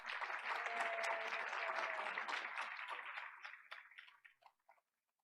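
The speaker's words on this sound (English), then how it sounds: "Let's give her a round of applause." Audience at a school board of education meeting gives a round of applause, a dense steady clapping that holds for about three seconds, then thins into scattered claps and fades out.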